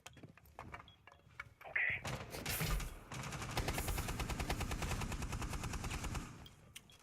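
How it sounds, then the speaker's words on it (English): Rapid automatic gunfire from a Rainbow Six Siege esports playoff match, sustained bursts and clattering shots filling most of the stretch after a few scattered single reports, with faint commentary underneath. "A lot of shots going down, but not a lot of kills going down yet."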